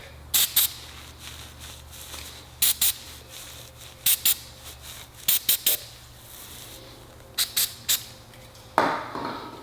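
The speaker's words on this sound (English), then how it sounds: "Take some Tarminator or Tar-X, get your microfiber, do a little spray." Tar-X tar remover sprayed from a trigger bottle onto a microfiber cloth in short, sharp hissing pumps, about a dozen close bursts in pairs and triplets with pauses between, then a longer rustle at the end.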